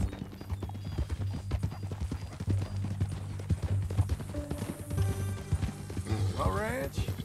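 Horse hooves clip-clop at a steady walking rhythm in the Western video game Red Dead Redemption, close and clear, while characters talk over them and a horse briefly whinnies near the end.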